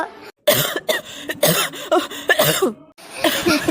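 A cartoon character coughs repeatedly in close, loud bursts with short gaps between them, a raspy run of hacking coughs lasting several seconds.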